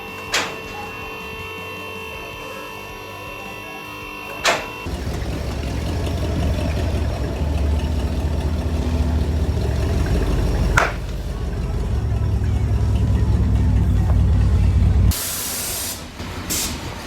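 Car engines idling and revving while cars are shuffled around a shop, starting with a quiet hum and clicks, then a louder rumbling engine run with a sharp hiss of air near the end.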